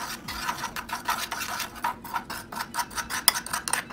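A spoon stirs a tablespoon of syrup into sugar, making quick, close, gritty scrapes and light clinks against the bowl in a steady rhythm with no talking.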